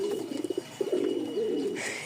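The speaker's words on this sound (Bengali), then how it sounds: "এখানেই বেশ কিছু কবুতর আছে, মাত্র খাবার দিলাম" Soft, low cooing from nearby pigeons in short repeated bursts, with a faint chirp near the end.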